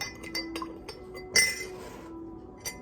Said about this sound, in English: I add my teaspoon of sugar. Then stir it up.